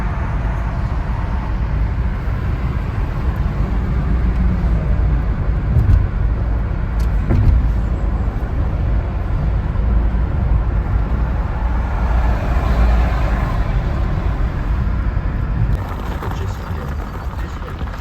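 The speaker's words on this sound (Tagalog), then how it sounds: "Traffic." Steady road traffic rolling past outdoors near a roundabout in Preston, England, a continuous broadband rumble of cars with a few louder vehicles swelling by, no talk over it.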